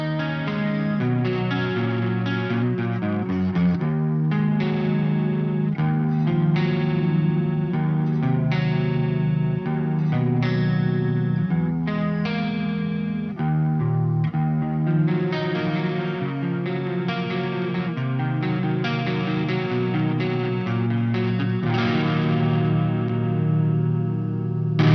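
Electric guitar through a Marshall JCM800 2203ZW Zakk Wylde amp, neck pickup, played continuously with a shimmering chorus effect, steady and full, strummed chords ringing without pause.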